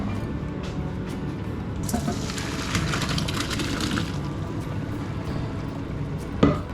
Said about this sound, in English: So we're going to get them drained and set them to one side.